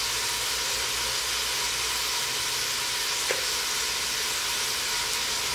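Vegetables softening in a hot pan while cooking Cajun/Creole rice and shrimp, a steady, close sizzle and hiss that holds throughout, with a faint stir or tap partway through and no talk.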